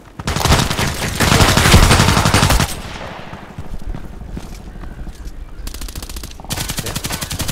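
Rapid automatic gunfire from the Contract Wars shooter game rips in a loud sustained burst for nearly three seconds, then gives way to scattered quieter shots and a second short burst near the end.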